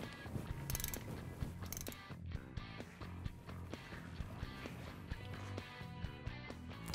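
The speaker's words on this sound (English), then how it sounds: "To remove this, we will use our ratchet and our 5/16 Allen socket." Ratchet turning a 5/16 Allen socket on the hydraulic drain plug of a Ventrac 4500 tractor, a run of quick metallic clicks and clacks close by, steady and unaccompanied by talk.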